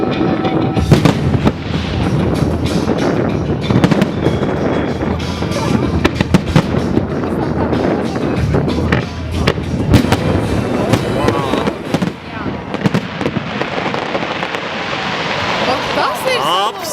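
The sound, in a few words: fireworks display exploding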